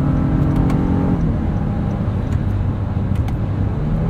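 Engine of a 2022 Honda Passport Trailsport AWD with a 9-speed transmission heard from inside while driving, a loud steady low drone with road rumble, even and unbroken throughout.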